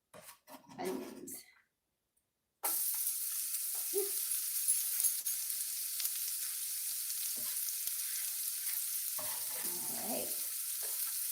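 Onions for an omelet sizzle loudly and steadily in a hot pan, a sudden dense hiss that starts after a short spoken moment and runs on without break, with brief talk breaking in near the end.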